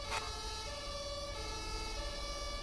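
A fire truck siren sounds in GTA 5 while the truck stands parked at a building fire, a steady multi-tone wail holding throughout amid loud ongoing game noise.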